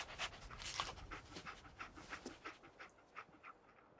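Companion dog in Fallout 4 pants in quick, rhythmic breaths, close and fairly faint, with no voices over it.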